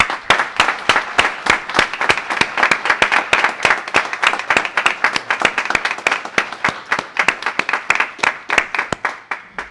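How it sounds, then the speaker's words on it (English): Audience at a MassWorks Infrastructure Grant award ceremony applauding Lieutenant Governor Polito, a steady stream of sharp, distinct claps in quick irregular rhythm, close and moderately loud, sustained for nearly ten seconds. "I would hope you would join me in just simply applauding Lieutenant Governor Polito for all her service"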